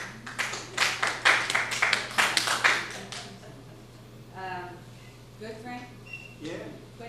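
A short burst of clapping from a small group at a town council meeting, quick and close for about three seconds, then fading to quiet room sounds with faint voices.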